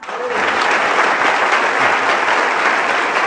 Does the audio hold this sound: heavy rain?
no